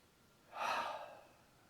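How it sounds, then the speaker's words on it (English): A single soft, slow inhalation during tai chi practice, faint and close, swelling then easing off over about a second. "And you take your breath in."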